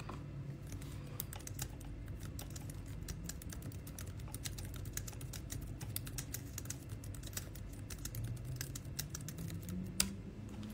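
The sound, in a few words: typing on a computer keyboard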